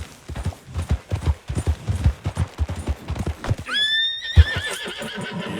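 A horse in the Red Dead Redemption 2 video game gallops with steady, close clip-clop hoofbeats, then gives a loud, clear whinny near the end.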